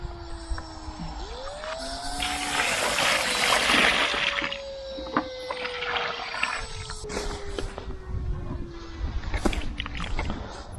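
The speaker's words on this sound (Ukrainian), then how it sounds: "Так що заливаємо водою" Water pours and splashes into a planting hole around a newly set linden sapling in a loud rushing burst, then trickles off, with faint rustling and a few sharp knocks.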